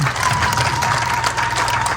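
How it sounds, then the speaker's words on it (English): Crowd at a community handover ceremony in Karuma claps loudly in a steady, dense burst of hand clapping for a minister's gift of a bull, with cheering mixed in and no speech over it. "Mighty hand clap to the minister for 1 bull"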